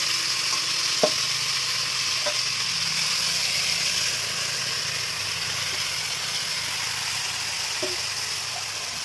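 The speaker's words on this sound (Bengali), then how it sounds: "এবার মা মাংসগুলো দিয়ে দিচ্ছে কড়াইয়ে।" Marinated meat going into hot mustard oil in a wok, giving a steady, close, even sizzle throughout with a few faint clinks of a utensil; no one talks.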